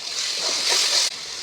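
Water poured into a hot cooking pan of chicken with salt and ginger sends up a loud, rushing hiss that holds for about a second, then cuts off sharply.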